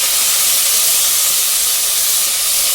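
Garlic, dried red chilies, dal, mustard seeds and curry leaves frying in hot oil, a loud, continuous, close hissing sizzle that holds evenly throughout with no voices.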